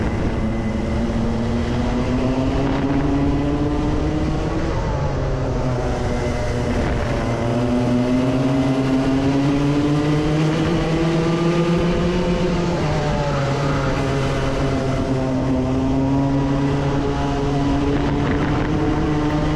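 Club100 racing karts lapping the Lydd circuit, a loud continuous engine drone that rises and falls in pitch as the kart accelerates and brakes through corners, with no talk over it.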